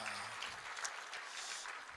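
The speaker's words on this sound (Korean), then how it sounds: "박수하겠습니다" Congregation applause at a church service, a dense, steady patter of many hands clapping throughout, moderately loud and without speech.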